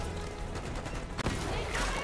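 Gunshots in the Call of Duty: Black Ops 6 campaign, rapid dense firing over loud game noise with one sharp louder crack partway through, while a voice talks.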